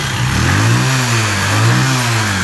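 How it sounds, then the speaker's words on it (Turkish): A motorcycle engine running after a spark plug change, a loud close idle that swells and dips in a few uneven revs, rough and steady throughout. "Şu an motorumuz çalışıyor."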